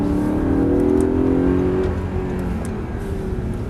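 Audi R8 4.2 engine accelerating on the road: a strong, rising engine drone heard from inside, loud and steady before easing slightly, with no voices.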